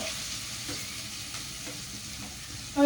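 Paneer bhurji cooking in a pan, a soft steady sizzle with faint rhythmic stirring scrapes, close and quiet, ending in a brief louder clatter.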